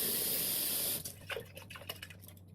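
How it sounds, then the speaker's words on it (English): Tap water gushes steadily into a jar holding radish microgreen seeds during a rinse, then cuts off abruptly about a second in, leaving a few soft sloshes and clinks from handling the jar. "I want to rinse the other jar one more time to make sure I got that vinegar out"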